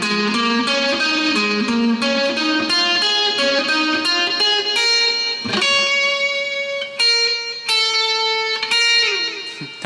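Guitar pentatonic endurance exercise played slowly, a steady stream of clean single notes climbing and descending across the strings, ending in a few ringing higher notes, close with no talking.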